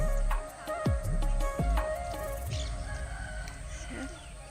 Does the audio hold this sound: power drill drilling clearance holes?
no